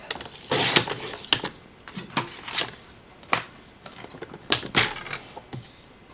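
Paper trimmer slicing card stock: a series of sharp, crisp cutting snaps and clicks spaced irregularly over several seconds, close and fairly loud, with no talking.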